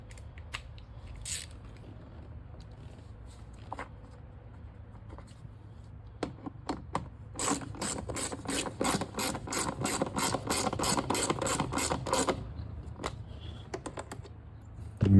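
A ratchet snugs down the plastic transmission control module bolts on a 2012–2018 Ford Focus, first with scattered clicks, then a steady run of rapid, close pawl clicks before stopping.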